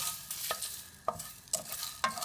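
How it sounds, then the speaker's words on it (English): Dry whole spices for Madras curry powder are stirred in a hot pan, giving a faint, steady sizzle broken by four soft scraping strokes spaced about half a second apart. "we're going to roast the spices"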